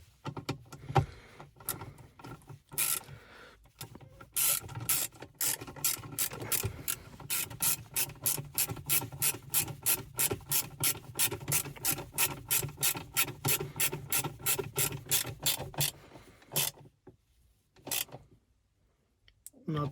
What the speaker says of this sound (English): I'm gonna put the screw back.